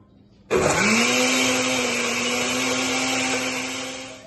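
A blender whirs into action with a sudden start while making Haitian épis seasoning, its motor rising in pitch and running loudly and steadily for a few seconds.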